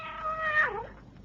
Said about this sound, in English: your uncle's old tomcat